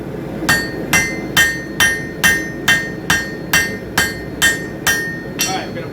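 Hammer forging a san mai steel billet, eleven evenly spaced ringing blows about half a second apart, each a sharp metallic strike with bright clanging overtones, close and loud over low background noise.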